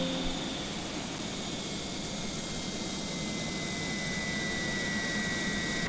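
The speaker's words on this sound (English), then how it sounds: "let's go ahead and cut our engines" The jet engines of an Airbus A300 shut down after landing, heard as a loud, steady broadband roar and whine that holds throughout without talk.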